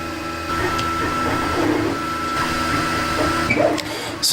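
A 3D printer runs while printing a worm-wheel bolt-on prototype, giving a steady close mechanical hum with whining motor tones and small clicks, heard alone and unbroken.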